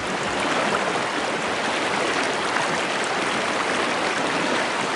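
Shallow rapids of a remote stream rush and burble steadily and loudly around a canoe on a spring trout fishing trip, a dense continuous wash of water with no voices.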